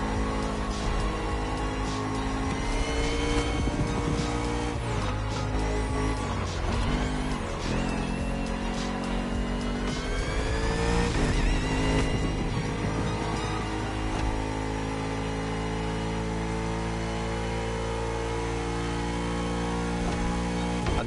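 Bugatti Vision GT, a hypercar designed for a video game, with its engine droning and revving steadily at close range for about twenty seconds, the pitch rising and falling through a few surges.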